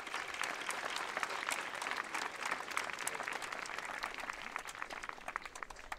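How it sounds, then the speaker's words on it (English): Audience at a middle school grade promotion ceremony applauds the principal and teachers, a dense, steady roar of many hands clapping from a moderate distance, sustained evenly for the whole stretch. "Let's give them a round of applause"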